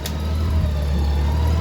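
A Honda Goldwing motorcycle engine idling in a workshop during throttle cable work, a steady low rumble, close and loud, with no speech over it.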